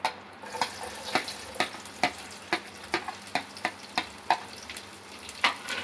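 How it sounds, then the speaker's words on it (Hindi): Roughly chopped onions and green chillies frying in an asafoetida tadka for dal khichdi: a continuous sizzle broken by regular sharp scraping stirs, about one every half second, close and fairly soft. "अब मैं इसे जब तक हमारे जो प्याज है वो हल्के से ट्रांसलूसेंट नहीं हो जाते जब तक मैं इसे फ्राई करूँगी"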